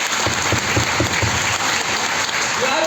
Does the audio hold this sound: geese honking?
no